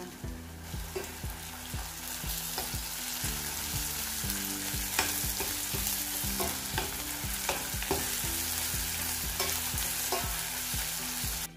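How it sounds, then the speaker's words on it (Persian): Garlic and onion sizzling and frying in a pan, a constant crackle with regular scraping stirs punctuating it, close and fairly quiet. "پنج حب سیر له شده رو بهش اضافه میکنم یه مقدار با پیاز سرخش میکنم"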